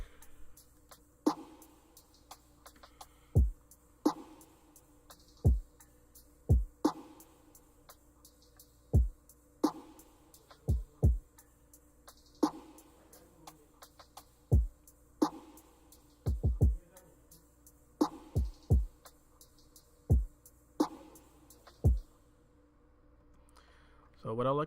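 A drum beat programmed in FL Studio plays without its 808 bass. Sharp, punchy kicks and snappy hits fall in an uneven, sparse pattern over quiet ticking hats, with gaps between the hits.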